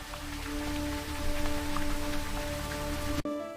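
Steady rain falls as a sound effect in an animated Tamil children's story, a continuous dense patter with a low droning tone under it, cut off abruptly near the end.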